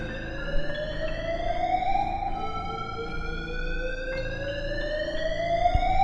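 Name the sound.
alarm ringing through a building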